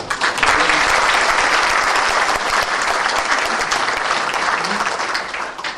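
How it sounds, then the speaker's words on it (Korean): An audience at a morning lecture forum applauds a standing school principal with dense, continuous clapping that fills the room loudly and evenly before easing slightly at the end. "그럼 일어나서 박수 받으세요"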